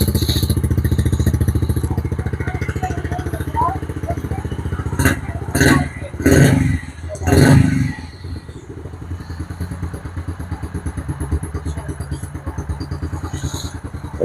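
A Yamaha TTR50 dirt bike idles steadily after being reassembled in a yard, a close, even putter with a few brief louder revs in the middle.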